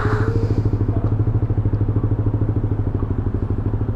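A Yamaha Aerox 155 scooter engine runs at a steady rumbling idle after a top-speed ride, loud and close with an even throbbing pulse and no talking.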